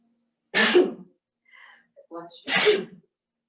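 Two sharp sneezes ring out about two seconds apart, close and loud, with a few faint breathy sounds in the quiet gap between them.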